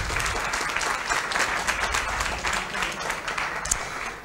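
An audience at a flat-earth conference talk in Chile breaks into steady, sustained applause, a dense wash of many hands clapping at once with no voices on top.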